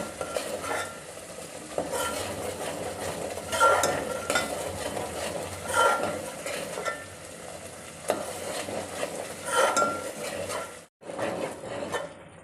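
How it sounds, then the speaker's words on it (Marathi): Gravy frying in oil in a pan while being stirred with a utensil, a steady sizzle with rhythmic scraping strokes, close and moderately quiet, with no voices. "आता पूर्ण ग्रेव्हीला तेल सुटेपर्यंत छान मस्त ग्रेव्ही तळून घ्यायची ही।"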